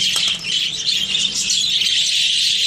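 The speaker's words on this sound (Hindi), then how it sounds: "ये मेरे इतने शौकीन हैं तोते कि एक डालते ही जो है वो सारे टूट पड़ते हैं खाने के लिए" Baby budgies in a colony cage chirp at feeding time, a loud, dense, continuous chorus of high tweets close by.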